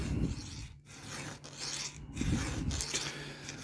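A hand file is drawn across a chainsaw chain held in a vise, producing a series of close, gritty rasping strokes in an uneven rhythm at a fairly quiet level.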